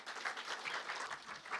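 Audience at a public forum on quantum science technology gives a round of applause, steady clapping from many hands, fairly faint and distant, continuing throughout.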